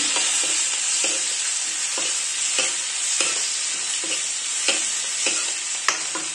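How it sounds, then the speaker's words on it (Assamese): Pieces of fish fry with onions in an oiled pan, a close continuous sizzle broken by repeated scraping stirs every half second or so, with a sharper clack near the end. "মাছখিনি দি অলপ ভাজিম।"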